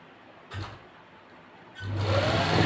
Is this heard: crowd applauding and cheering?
no